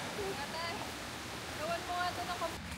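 Strong current of flowing water at Grasmere in the Lake District, a steady broadband rush at moderate distance, with faint birdsong chirps and tones drifting over it.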